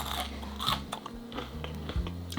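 Crispy home-cooked food is bitten and chewed right at the mic, giving repeated crunching snaps over a low steady hum, with no talking.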